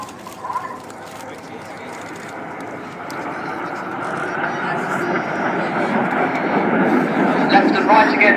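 Red Arrows jets fly a vertical break at an air show. A broad jet roar builds steadily and grows louder toward the end, with a commentator talking over it.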